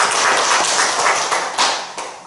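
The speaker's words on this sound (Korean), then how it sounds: "박수 한번 쳐주세요" An audience at a Won Buddhist Sunday service claps hands together, a dense burst of many overlapping claps that holds steady for a couple of seconds and then tapers off, with no speech.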